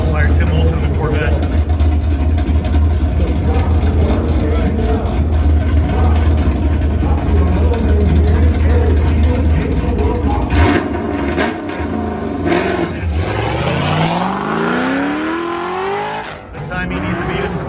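A Corvette race car at an autocross shootout roars through the course with a loud, sustained engine note, revving and shifting as tires squeal, while an announcer talks over the action.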